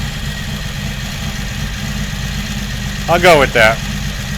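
A 1982 Honda Magna V45 motorcycle engine idles steadily with freshly installed carburetors, a constant low rumble running throughout while someone speaks briefly near the end.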